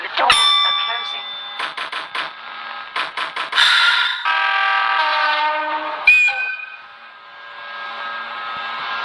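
A train at a station: chime tones and a recorded announcement voice over the doors closing, followed by a steady rising electric motor hum as the train pulls away, fairly close and loud.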